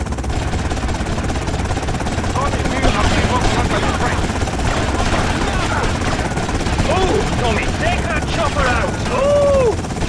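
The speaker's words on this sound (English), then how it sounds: "they got an attack chopper" An attack helicopter in the video game Vice City thunders with steady rotor noise, mixed with gunfire bursts and a voice speaking over it.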